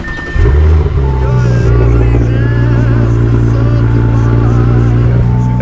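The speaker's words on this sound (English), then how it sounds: "Get a little cold start for you guys." Cold start of a Ferrari 458 sports car with red interior: the engine cranks and fires, then settles into a loud, steady high idle heard up close.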